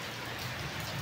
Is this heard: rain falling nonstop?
yes